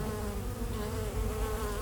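Honey bees swarm around a hive at a stationary apiary, making a dense, continuous buzz that sounds close and even, with no voices.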